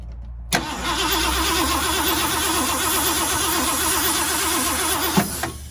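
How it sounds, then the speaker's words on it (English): A running Ford F350 engine idles steadily, close up, with a faint wavering hiss and airy whistle from blown exhaust manifold gaskets riding over the rumble throughout. "Hear that kind of air whistle?"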